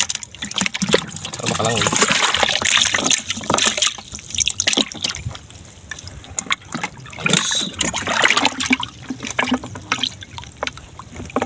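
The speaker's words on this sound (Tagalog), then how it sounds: "Lagyan po kayo tubig." Water splashes and trickles as it is poured into a container holding a freshly caught grouper, an uneven, gurgling stream close by, with someone talking over it.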